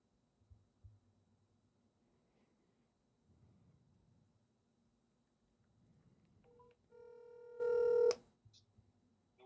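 Telephone dialing tones while placing a phone call, a few faint scattered sounds then a loud, clear burst of electronic tones near the end over low background hum.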